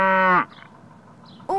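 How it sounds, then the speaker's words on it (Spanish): A single loud, drawn-out cow moo lasting under half a second, followed by quiet farmyard background and the start of another low call at the end. "¡Una vaca!"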